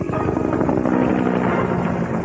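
A helicopter in an 1980s TV commercial gives a loud, steady rotor and engine drone with a rumbling, wind-like low end, brief and without talking.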